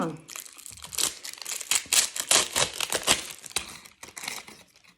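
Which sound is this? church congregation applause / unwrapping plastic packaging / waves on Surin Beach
unwrapping plastic packaging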